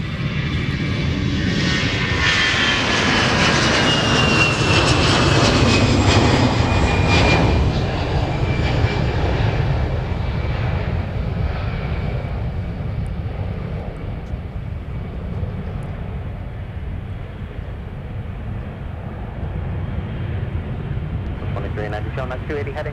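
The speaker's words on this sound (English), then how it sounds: "now departing 30 left with the A319. The A320, beg your pardon." An Airbus A320 airliner departs runway 30 left at Minneapolis–St. Paul airport, its engines roaring loudly then fading steadily as it climbs away, with a voice talking over the sustained roar.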